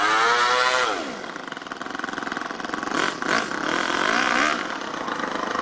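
A two-cylinder four-stroke engine fitted in an RC car revs hard, then drops and climbs again in loud rasping bursts, close and dominant throughout.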